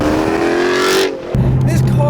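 A 2006 Chrysler 300C SRT8 engine howls near at high RPM, holding a strained rising tone before cutting off briefly and then settling into a lower, rumbling pitch.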